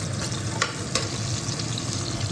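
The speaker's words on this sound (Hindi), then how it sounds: "यहाँ हींग और जीरा और प्याज घेर दी है मैंने" Asafoetida, cumin and chopped onion sizzle in hot oil in a pan for a tempering, a steady dense frying hiss with a few brief louder crackles, close and alone with no talk.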